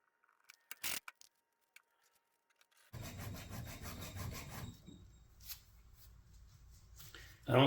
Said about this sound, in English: I'm just putting a little file notch in on the arm and on the shaft